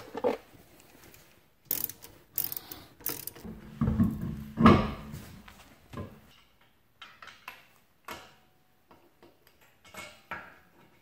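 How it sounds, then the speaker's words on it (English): Metallic clicks and clanks of a wrench tightening the rear brake caliper bolts on a Mazda 3, with irregular ratcheting bursts, a few louder knocks midway and sparse fainter clicks toward the end. "we just tightened all these to 90 foot-pounds"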